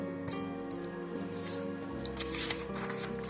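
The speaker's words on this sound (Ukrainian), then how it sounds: "Беремо папір червоного кольору та складаємо навпіл." Red paper being folded in half for a children's apple craft, with soft crinkling and rustling bursts over steady background music.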